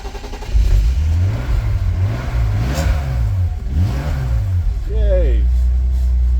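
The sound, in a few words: BMW E46 330Ci engine starting and revving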